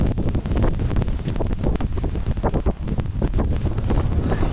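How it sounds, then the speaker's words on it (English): Strong wind buffets a microphone outdoors on a North Dakota bow hunt, a loud, constant rushing roar with rapid gusty thumps and no talking. "I'm hoping this blind will even stay up where it's at because it's so dang windy"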